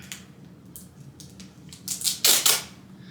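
Adhesive tape is pulled and pressed around a plastic milk jug in a garden setting: a few short, sharp rips early on, then louder, longer tearing bursts near the end over a quiet background, with no talking.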